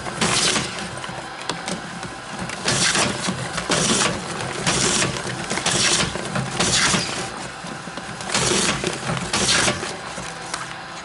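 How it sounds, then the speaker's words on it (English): A Tach-It CTL labeling machine runs ziplock pouches for animal treats along a conveyor, giving a steady mechanical whir broken by loud, regular bursts about once a second as each pouch is labeled. "we're going to turn on the conveyor and run some of your bags through"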